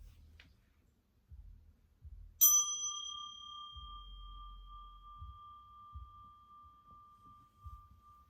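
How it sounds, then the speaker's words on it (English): A single clear bell strike rings out and its pure tone hangs and slowly fades over several seconds in an otherwise quiet room with faint low rumbles. "Let me ring the bell."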